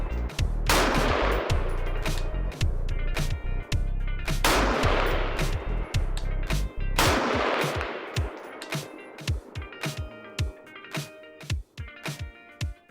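Rifle shots ringing off steel targets, a string of sharp, loud reports; the first few are widely spaced with long ringing decay, followed by a faster volley of crisp cracks, all close with no talking.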